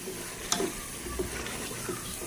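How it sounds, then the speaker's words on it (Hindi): Beef pieces for kadai fry in a pot with a faint steady sizzle, punctuated by a few soft stirring scrapes close by, with no talking. "गोश्त की भुनाई हो रही है।"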